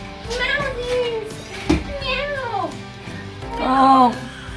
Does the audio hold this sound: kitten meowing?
yes